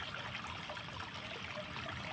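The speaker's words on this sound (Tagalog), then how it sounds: "Agos ng tubig." Water flowing in a stream gives a steady, even rushing and trickling wash, close by and unbroken, with no voices over it.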